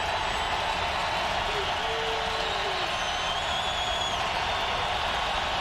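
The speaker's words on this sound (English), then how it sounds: "This crowd is loud." Loud, steady roar of a football stadium crowd at a 2013 Jaguars at Broncos NFL game, a dense wash of noise holding throughout with no clear breaks.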